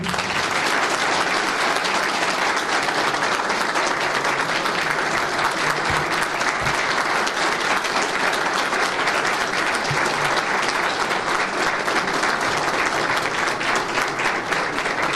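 At a political party congress, a large hall audience applauds the alliance party leaders in a loud, continuous, even roar of clapping from start to finish.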